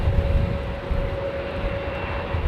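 A Boeing Dreamliner jet departs from runway 09, its engines producing a steady, loud broadband roar with a sustained tone, heard continuously with no talk over it.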